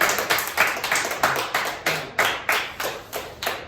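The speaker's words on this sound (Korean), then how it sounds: "우리 지섭이에게 생일 축하 박수를 한번 할까요?" A church congregation claps in rhythm for a child's birthday during a Sunday service, steady unison beats of roughly three per second, close and bright, with no talking.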